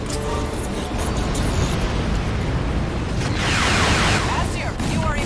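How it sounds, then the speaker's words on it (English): A missile launches and explodes in Crysis 2: a loud, continuous roaring blast that swells into a bright whooshing rush partway through, with no pause in the noise. "Target locked. Missile away."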